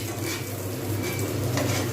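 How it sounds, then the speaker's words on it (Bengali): Rui fish roe fritters with potato and pointed gourd fry in oil, making a constant close sizzle with light stirring and faint utensil clinks throughout. "আরও একবার দিয়ে দিলাম এইটা ভাজা হয়ে গেলে ব্যাস হয়ে যাবে ডিম ভাজা কমপ্লিট"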